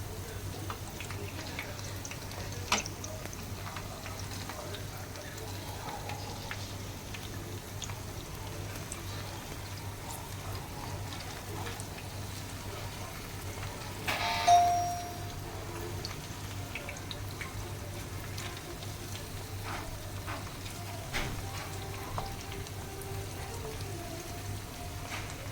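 Spicy, crispy paneer satay pieces frying in hot oil: a quiet, steady sizzling hiss with faint crackles and a brief louder pop partway through, continuing alone without talk.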